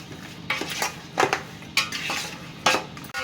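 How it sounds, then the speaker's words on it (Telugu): A spoon scrapes and clanks against a pot while mutton dum biryani masala is mixed, a few loud metallic strokes over a soft background rustle, close up and with no talking. "బాగా మిక్స్ చేయాలి."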